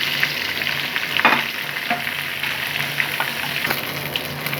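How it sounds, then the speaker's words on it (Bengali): Large eggplant pieces fry in hot oil for a hilsa fish curry with potatoes: a continuous close sizzle broken by occasional clinks and scrapes of stirring, with no talk. "এখন আমি বেগুনগুলোকে একটু ভেজে নিই।"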